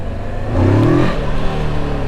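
A motorcycle engine revs up close, its pitch rising and falling in a single throaty surge over a steady mechanical drone.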